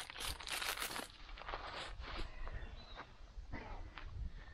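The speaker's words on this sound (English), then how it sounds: "Let's get rid of that plastic bag." Crinkly rustling of a plastic bag being handled up close, with irregular crackling bursts over a few seconds.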